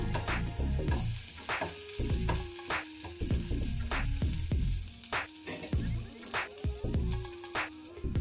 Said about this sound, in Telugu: కొంచెం ఇవి కలర్ రావాలండి, కొంచెం బ్రౌన్ కలర్ వచ్చే వరకు వేయించుకోవాలి